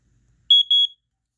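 A First Alert SA88 smoke alarm under test gives a piercing high electronic beep in two short bursts, loud and close in an otherwise quiet room.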